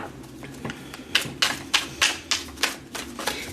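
A tarot card deck handled and shuffled up close, producing a quick run of crisp, papery clicks and riffling bursts in an irregular rhythm, with no talking over it.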